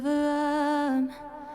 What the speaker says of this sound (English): Then I'm adding a bunch of delay here.